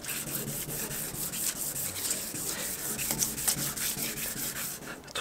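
Close, quiet wet sanding of a car hood's lacquer with 800-grit paper on a sponge produces a continuous rhythmic rasp of back-and-forth strokes with no talking.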